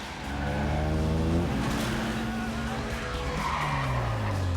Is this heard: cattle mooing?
no